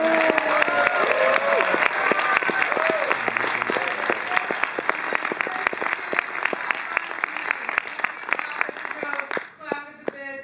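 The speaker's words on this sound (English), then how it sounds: "a big round of applause for" Lively audience applause at a tenth-anniversary screening of the comedy They Came Together, many hands clapping with whoops and cheers over a sustained stretch, tapering near the end as a voice speaks.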